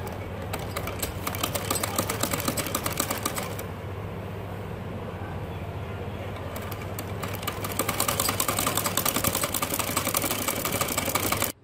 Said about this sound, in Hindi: इस एंड पर हम बिल्कुल इस एंड के ऊपर यहाँ पे सिलाई लगाएंगे